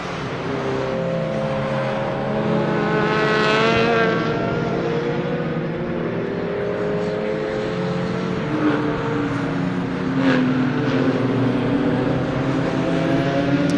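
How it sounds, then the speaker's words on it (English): Racing cars at Oulton Park circuit, among them a BMW, roar past with engines whining up and down in pitch, one car sweeping by near the start and others droning at a distance, loud and continuous. "There's Matthew Hibbert going through in second place."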